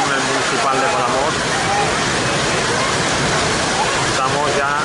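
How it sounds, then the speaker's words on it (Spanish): A heavy rain downpour roars steadily over the municipal football stadium in Palamós during a friendly match, a dense, loud, constant hiss, with a commentator's voice faintly talking underneath. "El diluvio que está cayendo en el municipal de Palamos."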